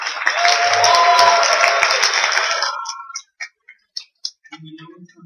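A conference audience at an HTML5 games event claps loudly for a few seconds, then the applause thins to scattered single claps.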